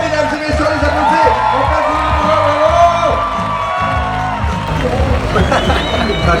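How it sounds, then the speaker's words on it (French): A live crowd on a Val d'Or road trip event cheers, whoops and applauds three performers, loud and close, with excited voices and babble mixed through the noise. "on applaudit les 3, mesdames et messieurs, les applaudis!"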